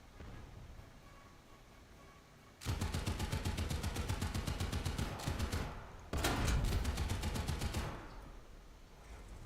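Rapid automatic tank gunfire in a video game, two loud sustained bursts of fast evenly spaced shots, the first about three and a half seconds long and the second shorter, with a low rumble continuing between them.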